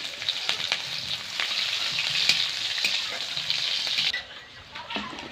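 Dried red chilies and green chilies frying in hot oil in a pan, a continuous close crackling sizzle with sharp pops, dropping away abruptly near the end, with no voices.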